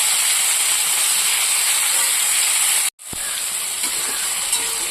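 Crab frying in a pan before vegetables such as bottle gourd go in, a loud, steady close hiss and sizzle that breaks off for a moment and then resumes.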